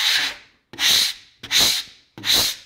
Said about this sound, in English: just use a squeegee